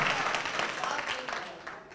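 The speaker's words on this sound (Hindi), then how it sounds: "तालियों के दरमियान इस्तकबाल कीजिए" Audience clapping at a kavi sammelan and mushaira poetry gathering in the Urdu Academy Auditorium, Lucknow, a moderate spread of hands that slowly fades, with voices mixed in beneath it.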